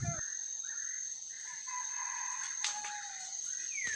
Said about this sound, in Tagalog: Yan yung tilaok na isa nasa baba, yung isa nasa puro taas konti.